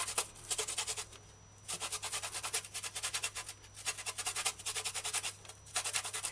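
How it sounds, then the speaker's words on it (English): Ginger rubbed across the finest holes of a grater, a close rhythmic rasping in quick regular strokes, grouped into bursts with brief pauses between them. "Use the finest holes on the grater. Grind ginger to puree."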